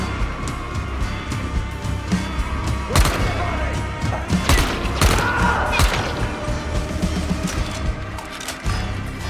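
Rifle fire in the video game Dying Light: The Beast, several sharp shots scattered through the clip among game effects, moderately loud with occasional mechanical clatter.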